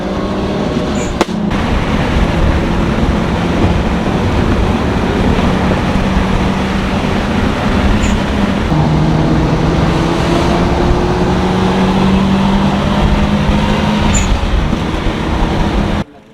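A boosted Toyota Caldina with a 3S-GTE engine and a Subaru Legacy STI race side by side, their loud engines droning steadily. Rising pitch sweeps mark gear changes over constant road and wind roar.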